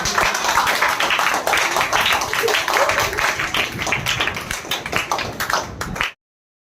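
An audience at an award ceremony for successful CBSE Class 10 students at a coaching class applauds. Dense, close clapping runs continuously for about six seconds and then stops abruptly.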